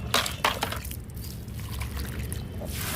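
Water poured onto plants in a small home garden, a brief splashing trickle with a couple of sharper splashes at the start, then a softer steady wash.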